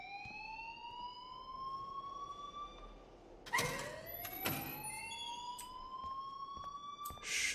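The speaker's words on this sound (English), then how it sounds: "please turn off that alarm since that's your job" A repeating electronic alarm rings in a video game school setting, a steady tone with rising sweeps, cut by two sharp bursts partway through and continuing to the end with no talking.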